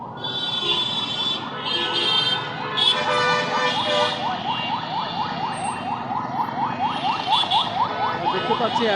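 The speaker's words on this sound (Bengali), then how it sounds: "দেখতে পাচ্ছি অ্যাম্বুলেন্স যাচ্ছে রুগী নিয়ে" An ambulance carrying a patient wails down a street near Dhaka Medical College Hospital at night, its rapid rising-and-falling siren loud and continuous for several seconds over traffic noise.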